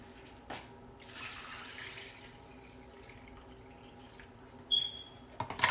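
Filtered water runs from a kitchen faucet fitted with a Brita filter, a soft, steady stream heard faintly throughout, ending with a few brief clinks and knocks.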